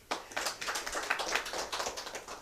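Audience at a Kannada poetry gathering clapping, a brief, faint burst of scattered applause close together, no talk over it.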